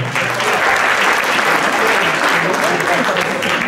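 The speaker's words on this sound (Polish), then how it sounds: "Brawa, Daniel." Hearty applause from the audience at an awards gala, a thick burst of close clapping with some crowd voices mixed in throughout the short stretch.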